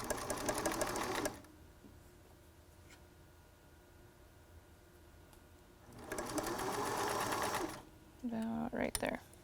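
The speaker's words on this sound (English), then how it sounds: "So I'm gonna sew a little bit more." A sewing machine stitching a mask made from a T-shirt, in two loud, steady bursts of rapid stitching, one at the start and one near the end, separated by quiet handling, with a short voiced sound closing the clip.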